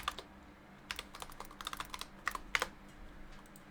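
Quick taps on a computer keyboard come in irregular clusters of clicks, soft and close, during a live esports broadcast with no talking.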